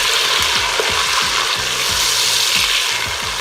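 Chopped tomatoes fry with ginger-garlic paste in a pot for kidney bean rice pulao, giving a loud, dense hissing sizzle up close with rhythmic stirring strokes and no talking.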